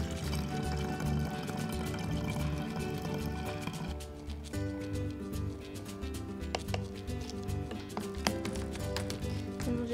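Tap water splashing and gurgling steadily into a bottle while a homemade citrus cleaner is mixed, a continuous fill sound up close with a few small knocks and clatters.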